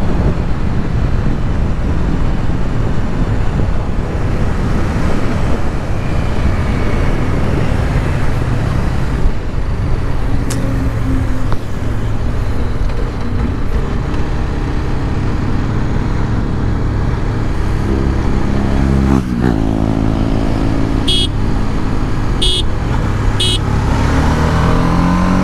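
A BMW G 310 RR and a Royal Enfield Interceptor 650 accelerating side by side in a drag race, a loud steady engine roar mixed with heavy wind buffeting throughout, with no talking.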